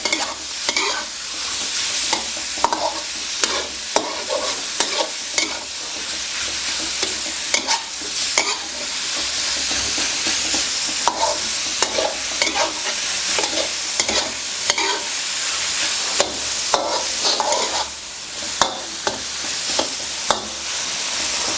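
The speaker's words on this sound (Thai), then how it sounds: "คั่วให้เข้ากันครับ" Vigorous stir-frying of pork cartilage in a hot pan: a constant sizzle with repeated scraping and clattering strokes of a spatula, close and loud, no talking.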